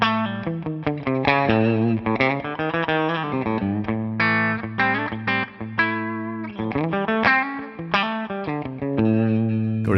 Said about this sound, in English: here I am with my Suhr Classic T guitar on the bridge pickup